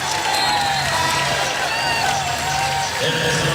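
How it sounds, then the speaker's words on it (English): College basketball crowd in the Florida State vs Louisville game applauding a hustle play, a sustained wash of clapping and cheering with scattered shouts, some voices carrying above the noise. "Crowd applauding that effort"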